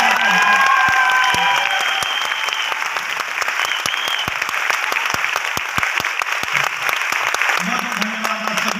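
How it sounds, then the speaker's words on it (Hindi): Crowd in a hall at a motivational speech clapping and cheering, with whistles and shouts over the start, then loud rhythmic unison claps ringing out while a voice speaks over the noise. "अगर लगता है आप 3 घंटे बाद कुछ हो जाएगा तो ताली एक बार बजा लो"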